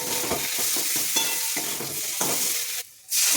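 Ground spices (garam masala powder, nutmeg, mace, cumin and black pepper powder) fry for a fish-head curry, a steady close sizzle broken by repeated scraping stirs, with a brief near-silent gap before the frying resumes.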